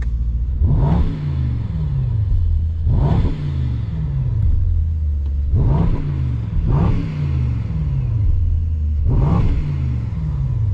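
A Brabus SL GTS Rocket wagon's powerful engine revs sharply four times in a regular rhythm, each burst climbing and then falling back to a deep idle between.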